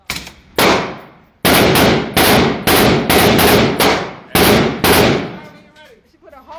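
Gunshots at an outdoor gun range, about eight loud sharp reports in an uneven rhythm, each followed by a decaying ring, close to the listener and with no talk over them.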